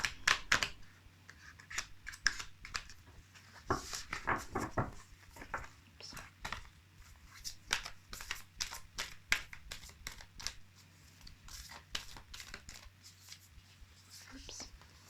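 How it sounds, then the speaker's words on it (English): Cards from a Super Attractor oracle deck are pulled and handled, with soft papery slides, flicks and taps scattered throughout, close and quiet, under a low speaking voice. "I will pull some cards from the Super Attractor deck."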